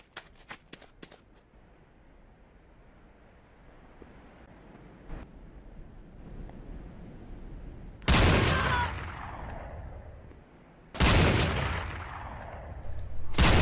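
Gunfire at targets in the video game Command & Conquer: Renegade: a few quick sharp shots at the start, then two loud sustained bursts of automatic fire over a low background rumble.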